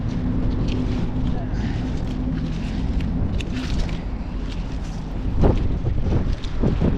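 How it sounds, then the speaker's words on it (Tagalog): Heavy wind rumble batters the microphone throughout while a person talks over it, the low roar steady and close. "Lakas ang hangin."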